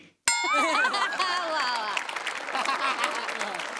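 Studio audience on a Marathi comedy show breaking into sudden applause after a moment of silence, a dense wash of clapping that starts sharply and keeps going steadily with cheers mixed in.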